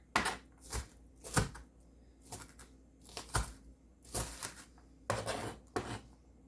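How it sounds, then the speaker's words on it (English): A knife roughly chops vegetables on a cutting board in a home kitchen, about a dozen sharp, uneven thuds spaced irregularly, close and clear with no talking. "Just gonna roughly chop once over here."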